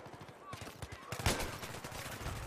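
Rapid bursts of gunfire in the video game Battlefield 3 on the Noshahr Canals map, with sharp cracks mixed with ongoing battle noise and someone talking over it.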